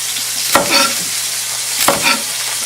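Chopped shallot dropped into a hot pan alongside rhubarb cherry chutney for a pork tenderloin dish, giving two quick bursts of sizzling and stirring over a low constant frying hiss.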